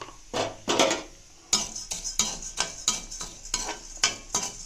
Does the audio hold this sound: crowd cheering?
no